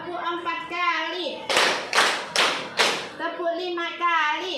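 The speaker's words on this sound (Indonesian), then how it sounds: "tepuk 4 kali" In a school science class, a teacher and pupils clap their hands about four times in a quick, even run. The claps are sharp and close, and counting voices come just before and after them.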